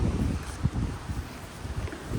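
Wind blows on a cold hike in Ha'ena State Park on Kauai's north shore. It makes a low, gusty rumble and buffets against the microphone, with a few brief swells and no voices.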